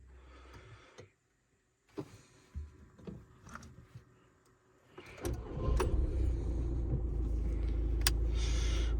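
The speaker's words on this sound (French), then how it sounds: "je vais démarrer la voiture" A 2006 Audi A3 8P facelift engine starting: quiet cabin clicks and mechanical whirs, then the engine catches near the middle and settles into a loud, steady low idle rumble heard from inside the car.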